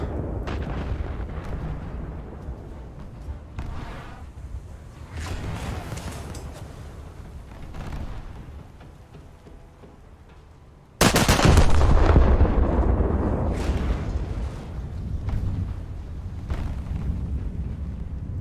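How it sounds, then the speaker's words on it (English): A naval gun salvo in a warship video game booms loud and sudden midway, a heavy broadband blast with a rolling rumble after it, while other dull gunfire thumps sound earlier in the clip. "That's looking like a good salvo"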